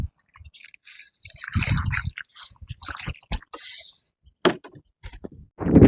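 Water splashes and drips in irregular bursts as hands and feet are washed, with short pauses between the wet slaps and trickles.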